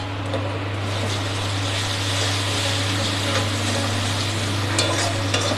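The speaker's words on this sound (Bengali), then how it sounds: "হ্যাঁ মশলাটা ভালো করে ভেজে নেব।" Spice paste of green chili and ginger frying in hot oil, a steady close sizzle and crackle running through the whole stretch with no talking.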